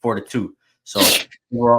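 A single sharp, loud sneeze bursts out mid-conversation, set between stretches of casual talk among football podcast hosts.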